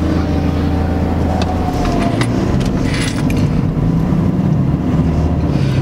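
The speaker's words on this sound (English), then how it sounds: "Look at these here on mopeds." Mopeds ride past, their small engines making a steady droning hum with some wind buffeting the microphone, and the sound stays fairly loud and continuous throughout.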